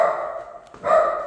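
A dog barks in short bursts, with a brief lull before another round of barking; close by indoors, no talk.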